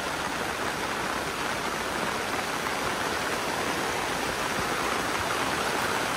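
Fast, heavy stream water rushing on a slippery uphill road at Muaro Aie, a loud, continuous broadband roar that stays steady throughout with no talk.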